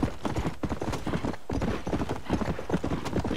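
Horse hooves clip-clop in Red Dead Redemption, a brisk, even rhythm of hoofbeats at a steady pace with faint game ambience behind them.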